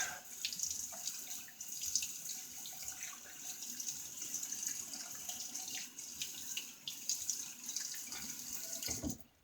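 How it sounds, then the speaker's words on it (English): Tap water runs steadily into a sink as a razor is rinsed during a wet shave, a continuous close hiss and splash that lasts several seconds before cutting off abruptly. "Let's get a rinse."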